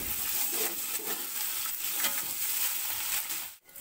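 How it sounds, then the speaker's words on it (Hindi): Ginger garlic paste frying with browned onions for mutton pulao, a steady close sizzle that is moderately soft and drops out briefly near the end. "अब इसमें अदरक लहसुन का"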